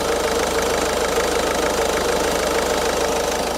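A Ford Focus MK3.5 engine idles steadily, a close, constant mechanical hum with a fine ticking rhythm and no talking.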